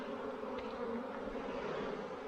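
Bees buzz steadily around a hive at Finca Abundancia, a continuous dense drone that stays near and fairly loud throughout, with no talking.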